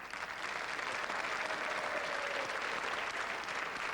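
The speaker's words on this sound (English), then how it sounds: "ladies and gentlemen, how about a round of applause for our guitarist" A ballroom audience at a sequence dance show claps for the guitarist Alec Coburn, a full, even wave of applause that stays loud and continuous from start to finish, with no talking over it.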